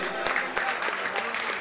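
An audience at a live stage program in Mumbai breaks into applause, a short dense burst of clapping heard up close that fills the whole moment.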